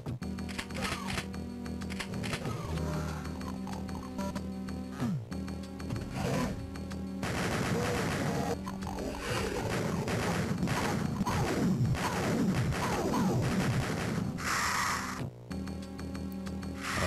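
Rapid, dense gunfire bursts from a chain gun in Doom 2 on the Game Boy Advance, crackling continuously over looping game music with short gaps between volleys.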